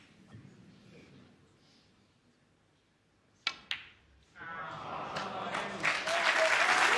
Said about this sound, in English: A standing ovation, and well deserved.